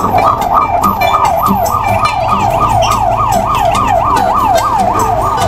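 An ambulance siren wails in a fast, repeating up-and-down pattern, loud and close, with road traffic rumbling underneath.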